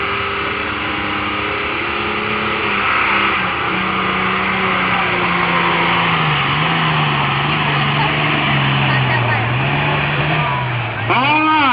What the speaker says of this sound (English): Right now, Ronnie Strickland has complete control over that track and that tractor